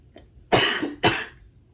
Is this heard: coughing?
yes